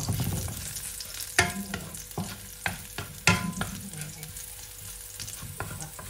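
Bok choy and shrimp sauté in a hot pan, a steady low sizzle punctuated by sharp clacks and scrapes of a utensil stirring against the pan, close and moderately quiet.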